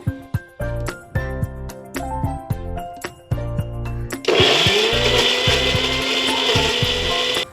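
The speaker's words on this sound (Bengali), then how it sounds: "এবার আমি মিক্সিতে একটা মশলা করে নেব।" An electric mixer grinder starts with a few short pulses and then runs in a loud, steady whir as it grinds onion, tomato, chopped ginger, garlic and green chilli into a masala paste.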